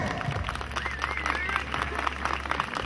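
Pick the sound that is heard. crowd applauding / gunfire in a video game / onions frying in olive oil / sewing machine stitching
crowd applauding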